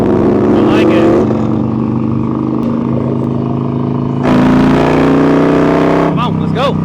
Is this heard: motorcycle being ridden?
yes